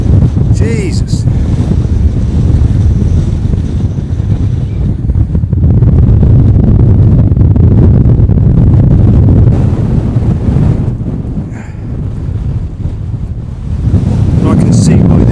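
Strong gusts batter the microphone wind muff on a hilltop at Cley Hill, a loud, continuous low roar that swells and dips throughout.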